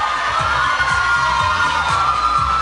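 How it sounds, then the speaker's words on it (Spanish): A television talent show audience cheers and whoops for two departing contestants, a sustained crowd roar over rhythmic low thumping music. "despedimos con fuertes aplausos a dos grandes amigos, dos grandes participantes"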